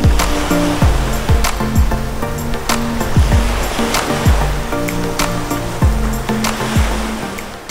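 Surf washes steadily onto Chaweng Noi Beach on Koh Samui, Thailand, a close, continuous wash of breaking waves with no voices.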